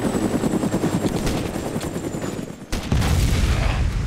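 Helicopter rotor drone with bursts of gunfire during a firefight in the video game DayZ, a steady loud engine roar punctuated by shots and a sharp impact near the end.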